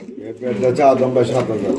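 Pigeons on a pigeon farm give a short, throaty coo close by, mixed with someone speaking over them.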